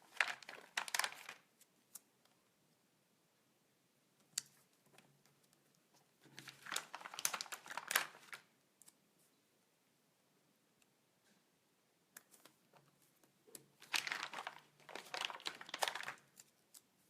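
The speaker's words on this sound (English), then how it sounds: "I'm going to go ahead and stick those stickers." Regular paper stickers being peeled and handled to stick onto a cup, bursts of soft crinkling and tapping in three clusters separated by near silence, quiet and close.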